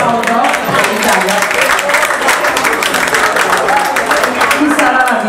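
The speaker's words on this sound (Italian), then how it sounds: "Un grande applauso per l'Italia." Dense, steady applause from an audience at a Milan Fashion Week runway show, with voices and cheers mixed in throughout.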